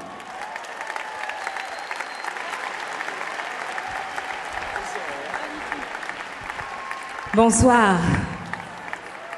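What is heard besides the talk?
audience applause at concert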